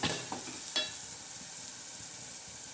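Spicy ground masala paste with red chilli powder is stirred in a hot frying pan, sizzling steadily with a few sharp scraping strokes of the spoon near the start.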